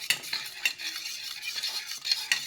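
Turmeric is mixed with cow urine into a paste, heard as soft, scraping strokes in a small vessel. The light rhythmic stirring repeats several times in a quiet room, with no one talking.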